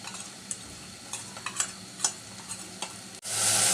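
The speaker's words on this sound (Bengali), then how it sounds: "এই তো মরিচ কষানো হয়ে গেছে" A chilli and turmeric paste fries in a pan, its low, steady sizzle punctuated by repeated close spatula scrapes in an uneven rhythm, ending in a sudden louder hiss.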